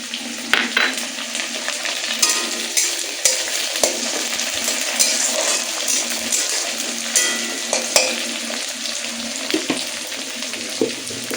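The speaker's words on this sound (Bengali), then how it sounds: "টমেটো কাঁচা লঙ্কাটা ভাজতে ভাজতে দিয়ে দেবো" Tomato and green chili fry with browned onion in a hot pan, a close, loud sizzle broken by sharp spits and pops and occasional utensil clinks, with no voices.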